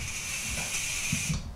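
Espresso machine steam wand: a steady, fairly quiet hiss that runs through the whole moment and cuts off at the end, over a low rumble.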